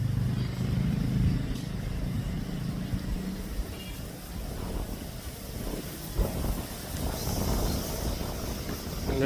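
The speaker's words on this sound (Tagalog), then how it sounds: "Malakas yung hangin." Strong gusty wind on a farm buffets the microphone throughout, a steady low roar with rumbling surges and no voices.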